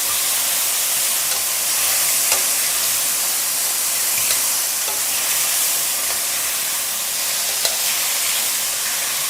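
Mushrooms frying in a pan of garlic and lemon butter give off a steady, loud, close sizzle, a dense hiss that never lets up, broken by a few faint pops and crackles, with no voices.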